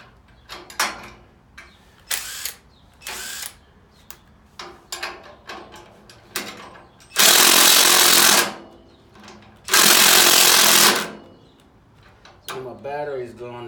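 A cordless power tool bolting a part onto a spiderbox build, heard as a series of short buzzing bursts and two longer, loud rattling runs, close up, with clanks and handling noises between them.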